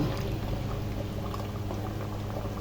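Pork calderita with potatoes and carrots bubbles vigorously in a pressure cooker, a constant, close rolling boil with irregular pops and splutters and no talking.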